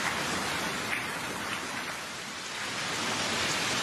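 Steady, dense rain pours down at Arkadia beach during a downpour, a continuous broadband hiss with no speech over it.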